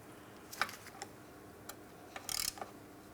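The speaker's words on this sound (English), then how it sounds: "I'm just going to use a regular ratchet for this so I don't cause any damage to my torque wrench." A regular ratchet tightens a castle nut on a front lower control arm of a 2004-2008 Pontiac Grand Prix, giving a few faint, separate clicks and one short burst of rapid ratcheting.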